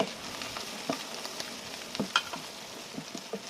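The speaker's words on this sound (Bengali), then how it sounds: "আমি এবার এখানে মশলাগুলো দিয়ে দিচ্ছি হলুদ মশলা কাঁচামরি সব একসাথে দিয়ে দিলাম" Turmeric, green chili and spices go into a pan of frying onion, garlic and ginger, producing a continuous close sizzle broken by frequent stirring clicks and scrapes, with no talking.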